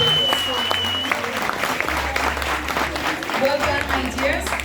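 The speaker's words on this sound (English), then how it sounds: "So please, let's give God a huge round of applause for carrying us." An audience at a matric dance claps in a sustained, dense round of applause from start to finish while a voice talks over it.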